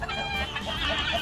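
Several chickens clucking softly in a backyard flock on a cold evening as birds settle to roost, a steady low mix of calls close by with no talking.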